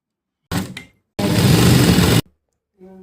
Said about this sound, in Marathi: आता आपण शिवून घेऊ, वरून डापटीप मारून घेऊया